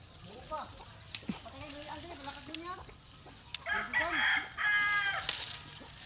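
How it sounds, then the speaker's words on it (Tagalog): Farm chickens, including a big white one, cluck in quick bursts while a rooster crows loudly near the end, heard over a quiet background with a person speaking nearby. "Ito mong puti nga manok nga dako guys ba."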